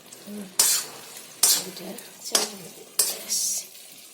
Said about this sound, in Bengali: একটু ঘি দিয়ে আমি নেড়ে চেড়ে কমপ্লিট।